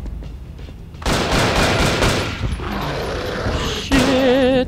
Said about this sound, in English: Sentry guns going